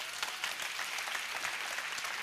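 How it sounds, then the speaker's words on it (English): Steady applause from a conference audience at the PM Summit 2023, greeting speaker Frank Tassone as he takes the stage; dense, continuous clapping with no gaps across the whole stretch. "Please, applause for Frank Tassone."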